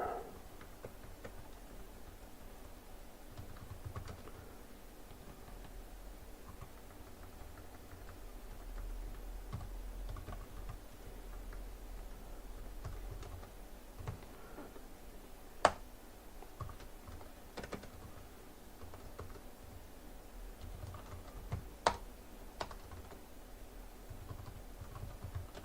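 Keys clatter on a computer keyboard during software coding on an Atari MiNT system, soft irregular tapping with occasional sharper clicks, close and quiet in a still room.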